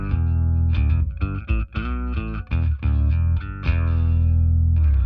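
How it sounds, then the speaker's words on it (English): Electric bass played through an octaver pedal on a worship pedalboard, thick doubled low notes with a synth-like edge, a run of loud plucked notes and short phrases with brief gaps, played alone. "we have the bass octaver. That sounds like this."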